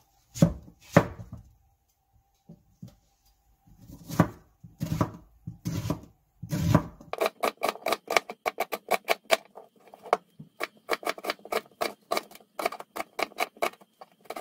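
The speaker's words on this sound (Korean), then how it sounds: "파는 큼직하게" A knife chops green onions on a cutting board, first in slow, separate strokes, then a quick, steady run of crisp taps, close and without talking.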